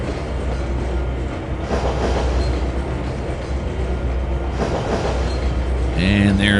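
Grain train rolling through a service yard in the Trainz 2022 simulator, a steady rail rumble with wheel clatter throughout and a brief whistle-like tonal sound near the end, with speech-like sounds also present.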